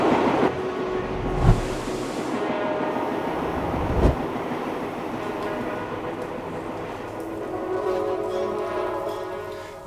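A train carriage en route to Lauterbrunnen, Switzerland rumbles steadily along the rails, with a couple of sharp knocks and clatters from the wheels over a constant close-up hum.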